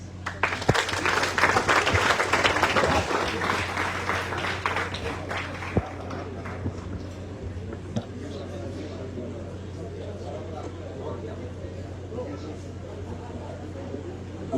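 Audience at a school centenary celebration clapping loudly for several seconds, then fading into crowd chatter and murmuring over a steady low hum, with occasional claps and voices later.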